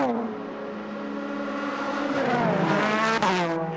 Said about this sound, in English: Just getting lapped there by the Porsche, but that blue Alpine is leading its class